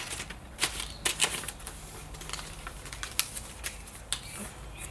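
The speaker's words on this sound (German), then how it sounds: "Das Ganze kommt jetzt schön gefaltet in diesen Umschlag rein." Folded sample papers slid into an envelope for mailing, heard as faint, close paper rustles and crinkles with a few sharper crisp taps scattered over several seconds.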